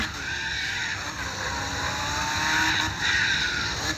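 A Mazda MX5 in the CarX Drift video game drifting through a right-hand corner, with continuous loud engine roar and screeching tyres that swell and fade over four seconds.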